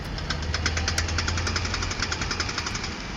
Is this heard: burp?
no